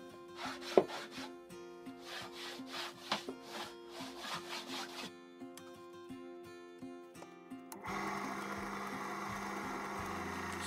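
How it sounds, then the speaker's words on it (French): A hand plane shaves wood on a table saw crosscut sled in a run of quick, rhythmic rasping strokes, close by, followed by a louder, steady broadband rush near the end. "Un petit coup de rabot pour ajuster tout ça"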